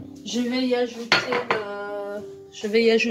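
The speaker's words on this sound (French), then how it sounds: "Je vais mélanger mes œufs avec le beurre" A utensil clinks and rings against a bowl while eggs are mixed with butter for pear and chocolate chip muffins, with a few sharp metallic strikes between sustained ringing tones.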